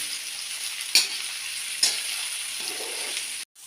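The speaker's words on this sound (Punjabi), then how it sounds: "ਮੂਲੀਆਂ ਨੂੰ ਆਪਾਂ 5 ਮਿੰਟ ਫਰਾਈ ਕਰ ਲਿਆ" Radishes fry steadily in hot oil for a mung-and-methi vegetable dish, a continuous close sizzle broken by two sharp stirring clatters before it cuts off abruptly near the end.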